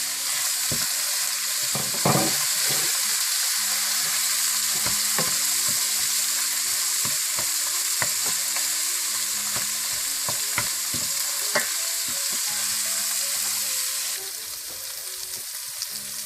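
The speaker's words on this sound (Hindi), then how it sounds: "साथ ही आप सूखी मिर्चें भी डाल दें।" Dried red chillies fry in hot oil, producing a loud, steady hiss of sizzling with scattered pops and spoon taps throughout, easing slightly toward the end.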